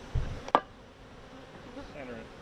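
Honey bees hum softly in an open hive during a beekeeping lesson, a steady faint drone with a couple of brief knocks near the start.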